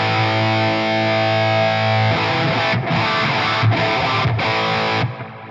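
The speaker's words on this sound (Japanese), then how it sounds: "こういう歪んだ音から" Electric guitar played through a Valeton GP-200LT multi-effects unit with heavy distortion, a sustained loud chord ringing out and then choppy rhythmic strumming, with no voices.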